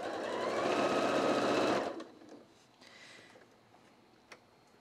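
Sewing machine stitching fabric for a reversible tarot cloth, a steady rapid whir of needle strokes for about two seconds, then stopping, leaving faint handling clicks and light taps.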